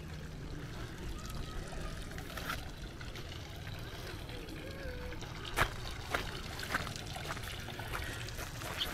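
A decorative water feature in a historic market town trickles and splashes steadily at a moderate distance, a soft continuous wash of running water with a few sharper drips and clicks, no voices over it.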